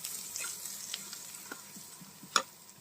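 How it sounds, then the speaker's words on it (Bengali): Chopped onions fry with browned garlic in a pan, a steady, soft sizzle with occasional stirring clicks and one sharper scrape near the end. "রসুনগুলো লাল লাল করে ভাজা হয়ে গেছে, এর মধ্যে আমি সমস্ত পেঁয়াজ কুচনোটাকে দিয়ে দেব।"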